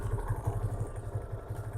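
A motorcycle in first gear rolls off slowly as the clutch is eased out for stunt-riding practice, its engine thumping in a steady low pulse close by for a short moment.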